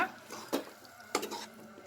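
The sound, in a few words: lid being put on a cooking pan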